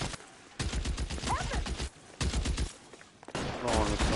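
A gunfire shootout in the video game L.A. Noire: bursts of rapid shots rattle loudly in several volleys with short gaps between them, while voices shout over the firing.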